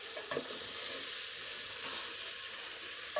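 Vegetables sautéing in oil for homemade pav bhaji, giving a loud, continuous, hissing sizzle with a few soft stirring knocks, heard close and without any voices.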